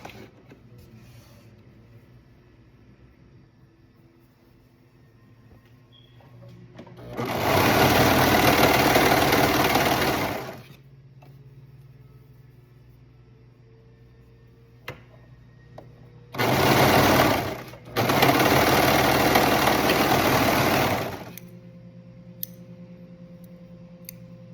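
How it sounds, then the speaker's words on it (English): Sewing machine stitching the shoulder seams of a hoodie, two loud bursts of steady running, the first about three seconds long, then a shorter run and a longer one after a brief pause, with quiet room noise between. "And sew those together"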